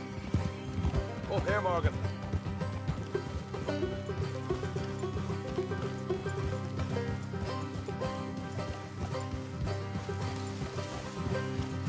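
Horse hooves from Red Dead Redemption 2, a clip-clop of riding horses under a busy game mix of music and ambience, with a character's voice speaking briefly over it.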